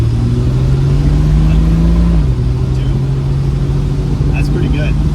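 A 1965 Dodge Dart convertible with a slant six engine accelerates through gear shifts, its loud, close engine drone climbing, dipping at a shift and pulling again, with brief voices over it.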